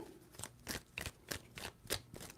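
Rapid papery riffling of tarot cards in a quick run of bursts, close and fairly quiet, with no talking.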